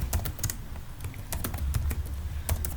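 Rapid typing on a computer keyboard, with a steady patter of close, light key clicks over a low background hum.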